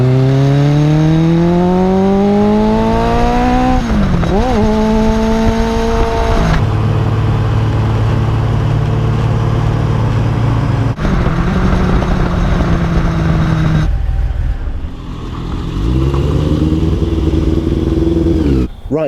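Light Car Company Rocket, a vintage-style lightweight sports car, driven hard with its engine revving up through gears, loud and close, with repeated accelerations, gear changes and brief drops in pitch, no talking.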